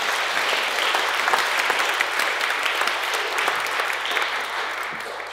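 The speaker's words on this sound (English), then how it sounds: "It's always nice to get applause before you say anything." An audience applauds at a lecture, steady close clapping from a full room that holds at an even level and tapers slightly at the end.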